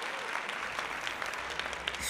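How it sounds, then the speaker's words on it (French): A small group applauds on a French talk show, with steady, moderately quiet clapping throughout and no clear voices over it. "Vas-y, on t'applaudit."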